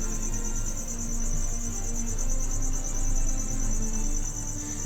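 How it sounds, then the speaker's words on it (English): Pet crickets indoors chirping loudly and steadily, a continuous high trilling that runs the whole time with no talk. "if the crickets are too loud, let me know and I will get up and move them"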